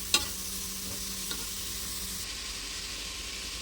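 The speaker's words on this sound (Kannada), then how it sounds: "ಅದಾದಮೇಲೆ ನಾವು ಬೀಟ್ರೋಟ್ ಹೆಚ್ಚಿಟ್ಕೊಂಡಿರ್ತೀವಲ್ಲ, ಅದನ್ನು ಇದರಲ್ಲಿ ಆ್ಯಡ್ ಮಾಡೋಣ." Chopped beetroot pieces drop into a hot pan and are stirred, giving a soft sizzle with a brief clatter at the start, fairly quiet and steady.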